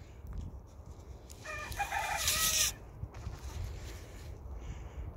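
A rooster crows once in the morning, a single loud call rising over a rustling, noisy outdoor background on a small farm, with no one speaking.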